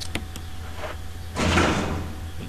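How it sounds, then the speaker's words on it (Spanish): A door opens in the Resident Evil Remake video game with a short click, then a louder swelling creak-and-slide lasting about a second, alone with no talk. "se abre la puerta"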